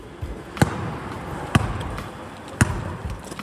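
A basketball bounces on a court three times at a steady, unhurried rhythm, each thump sharp and close against a low background murmur.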